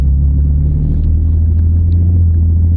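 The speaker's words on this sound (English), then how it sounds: "it's got a nice sounding engine" A used Ford car's engine idles steadily, a deep low rumble with a smooth even exhaust note close by, with no talking.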